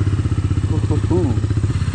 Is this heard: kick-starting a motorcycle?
yes